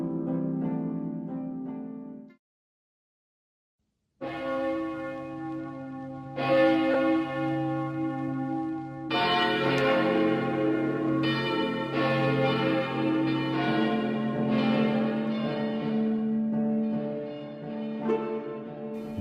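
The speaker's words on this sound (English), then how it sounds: "The church bells of Santo Domingo are heard from the distance" Church bells of Santo Domingo ring from a distance, a short tolling that falls silent for a moment before fuller, layered peals return and swell with many overlapping tones.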